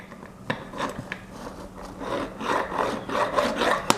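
Metal edges on a drill depth stop being deburred by hand, a close scraping rasp repeated in short strokes with a few sharp clicks of the tool against the part.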